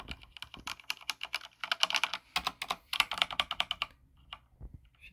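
Keys clatter on a Razer BlackWidow V3 mechanical keyboard with yellow linear switches, in quick bursts of close, crisp presses with short pauses between runs.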